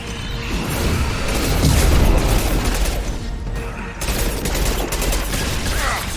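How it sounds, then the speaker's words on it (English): Anti-ship batteries firing on a collector vessel in the Mass Effect Legendary Edition video game, a loud, sustained barrage of booming blasts and crashes rolling continuously, with a brief dip before the fire resumes. "Firing anti-ship batteries at collector vessel."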